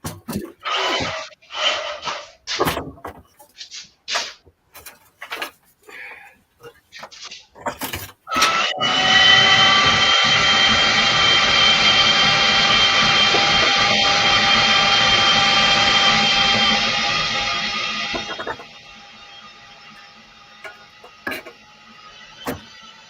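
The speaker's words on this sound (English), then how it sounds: "that fancy bandsaw. That's what it is." A powerful bandsaw runs steadily for about ten seconds while cutting up scrap transformers, loud and close, then drops to a lower whine. Bursts of knocking and handling noise come before it starts.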